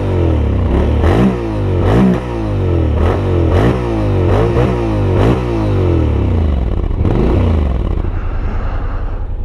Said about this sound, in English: I think I might pull over at some point and let you listen to the exhaust.